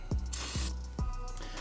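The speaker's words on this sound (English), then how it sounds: "spray the inside of this out just a little bit" Bursts of aerosol spray hiss into the inside of an Arctic Cat snowmobile chain case during an oil change, three short blasts with soft mechanical clicks and rubbing between them, close and moderately loud.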